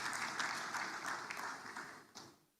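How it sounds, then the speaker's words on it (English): Faint applause from an audience at an investment forum, a dense patter of clapping that carries for a couple of seconds before tapering off. "can you please give yourselves a round of applause?"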